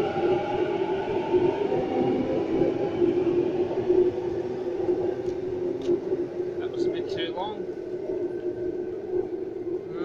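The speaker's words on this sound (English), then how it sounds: "Here departing from platform number six, we have a Waratah bound for Hornsby" A Sydney Waratah electric train departs platform six at Epping, bound for Hornsby, its steady low motor hum and rolling rumble continuous and fairly loud, with a few brief high tones near the end.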